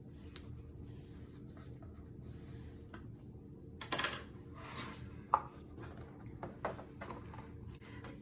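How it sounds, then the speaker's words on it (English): A paper panel for a Stamperia Sunflower mini album is burnished from the back side with soft, faint rubbing and scraping strokes, broken by a few light taps and clicks, close and quiet. "I'm gonna flip this over and burnish from the back side."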